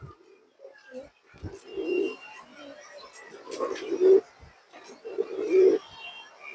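Several low, rolling coos from a pair of fancy pigeons sound up close, repeating every second or two, with a voice speaking intermittently around them.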